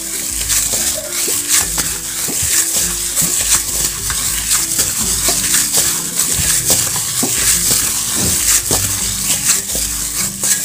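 Simple cake dough is mixed and stirred continuously, producing a dense, even scraping and squelching texture with small repeated clicks throughout, fairly loud and close.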